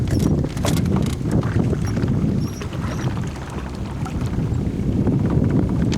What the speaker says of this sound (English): this wind is starting to be a little bit of a problem.